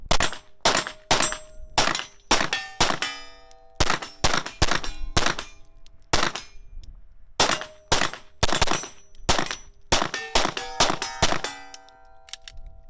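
A TTI Sandviper 9mm pistol fires many sharp, loud shots, mostly in quick pairs and short strings, each report followed by a ringing metallic ping from steel targets, with brief pauses between groups.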